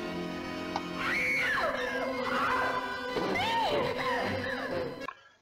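A woman screams in a vintage black-and-white monster film, long wavering shrieks rising and falling over a dense orchestral score, loud and sustained before cutting off abruptly.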